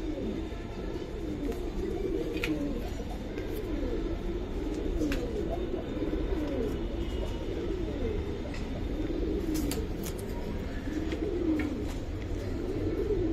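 Old-breed Bagha Sabuj Golap pigeons at a pigeon market coo steadily in a low, rolling murmur, several birds overlapping close by, with faint background noise throughout.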